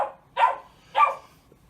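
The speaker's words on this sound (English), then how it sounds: "stop barking at the ferrets" A pet dog barking at ferrets indoors: two sharp, loud barks spaced about half a second apart, close by, with no talk.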